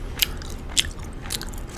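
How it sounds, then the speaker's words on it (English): Close, crisp chewing of sweet mint gum with a few sharp clicky bites spaced apart, and no talking. "So here's the gum that I'm chewing."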